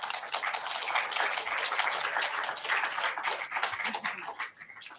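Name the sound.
audience applause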